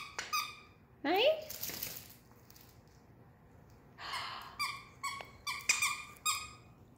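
A Yorkie plays with a squeaky bat-shaped toy, producing several sharp, high squeaks in uneven bursts with quiet pauses between, close by and fairly faint, with no talking.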